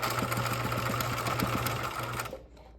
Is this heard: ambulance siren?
no